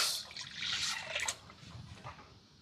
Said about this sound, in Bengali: এই বাটি মেপে আমি জলটা দিচ্ছি